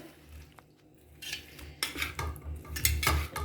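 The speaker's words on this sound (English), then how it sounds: "here she is putting our yellow cauliflowers into the batter and she's coating it really well" Yellow cauliflower pieces for gobi 65 are tossed and coated in batter inside a bowl, giving soft wet stirring and a few scraping clinks of a utensil against the dish that build toward the end.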